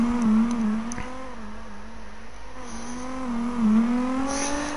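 Steady car engine note from CarX Drift Racing Online on PS4, holding a droning rev with slight rises and dips in pitch, fairly loud and continuous with no talking.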